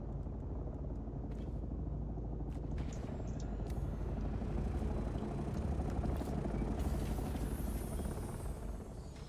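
The Thopter, a flying craft in the game Dune: Awakening, its engine a steady loud whirring drone with a broad rumble held throughout, a few faint clicks and whooshing sweeps over it, no talk.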